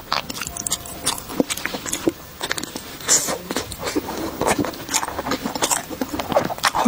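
Someone bites and chews a traditional Chinese pastry with a large mochi filling, close and crisp, with repeated crunchy bites and wet chewing in an irregular rhythm and no talking.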